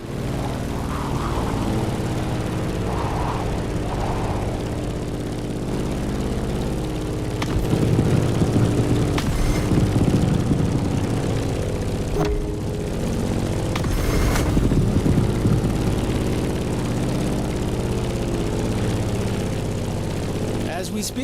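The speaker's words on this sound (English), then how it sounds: "In the cockpit of a stunning Grumman F-8F Bearcat, or simply the Bear." A Grumman F8F Bearcat propeller fighter drones steadily in The Crew Motorfest, a loud continuous engine roar that swells slightly mid-flight, with no talking.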